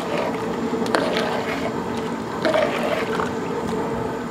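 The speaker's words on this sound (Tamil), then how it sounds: "அரிசி சேர்த்ததுக்கப்புறம் நல்லா கலந்து விட்டுடலாம்." Rice is stirred in a large pot of boiling water for a 2 kg vegetable biryani, producing soft sloshing and bubbling with occasional scrapes and knocks, close and steady.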